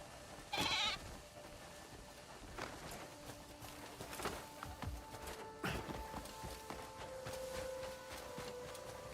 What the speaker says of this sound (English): Found a goat.